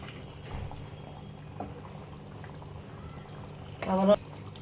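Hot water poured into a pot of simmering mutton and potato curry, a short splashing burst near the end over a quiet, low bubbling background.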